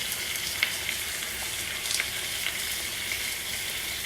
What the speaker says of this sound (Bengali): এবার কষাবো ভালোভাবে